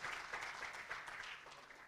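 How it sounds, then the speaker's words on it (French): Warm applause from an audience at the 2022 ASCOM awards ceremony as a trophy is presented, a steady rustle of clapping at moderate volume that eases slightly toward the end. "va recevoir le trophée sous les applaudissements chaleureux de ce public très sélect"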